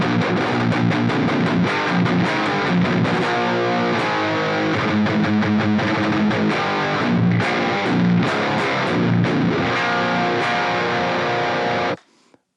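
High-gain guitar amp tone from a Helix modeler with a modern 4x12 cabinet impulse response, a dense, distorted riff with chugging palm-muted notes, loud and continuous, stopping abruptly near the end.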